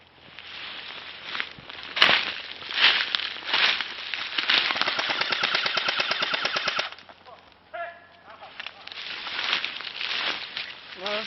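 Airsoft guns firing during an outdoor airsoft game, with sharp single pops followed by a long rapid burst of full-auto shots, then more scattered cracks, fairly close and loud.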